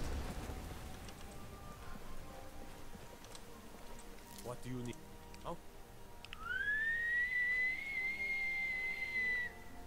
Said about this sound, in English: That's a pretty good whistle.